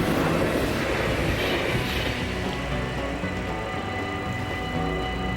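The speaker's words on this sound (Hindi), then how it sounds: "ये भी एक कोरियन रेल है" A Korean high-speed train arriving at a station, a loud, steady broadband rumble and rushing roar that holds throughout and eases slightly toward the end, with no talk.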